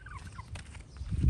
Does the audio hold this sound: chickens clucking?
yes